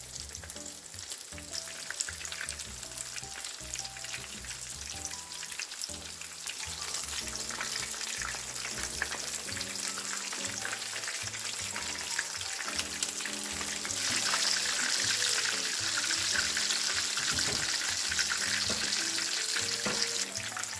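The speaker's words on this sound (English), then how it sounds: "these are going to cook until they are golden brown on each side" Chicken pieces fry in a pan toward golden brown, giving a steady, close sizzle and crackle that runs unbroken and grows slightly louder midway, with no voices.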